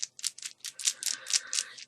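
Runes being shuffled for a psychic reading, producing a quick run of clicking, rattling clacks in uneven bursts, close and fairly crisp, with no talking.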